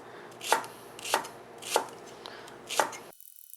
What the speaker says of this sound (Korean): 파는 어슷어슷 썰어주도록 하겠습니다